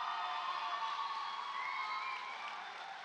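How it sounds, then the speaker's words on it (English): An audience at a high school graduation ceremony applauds and cheers, a dense continuous wash of clapping heard from within the crowd that slowly eases in level. "give them some applause there"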